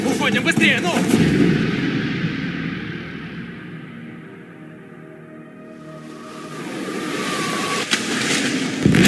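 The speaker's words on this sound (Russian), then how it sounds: "Сработало взрывное устройство." An explosive device detonates in the video game Detroit: Become Human, a loud rumbling blast with a rolling low boom that swells, fades into a quieter wash, then surges again with heavy crackling rumble.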